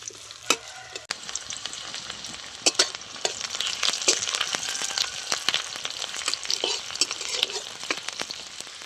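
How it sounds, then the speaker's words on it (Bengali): Onion frying lightly in oil in a pan for Bengali egg posto curry, a steady crackling sizzle running throughout with occasional stirring clinks and scrapes, close and fairly loud, no talking. "পেঁয়াজটা এবার আমি হালকা করে ভেজে নেব।"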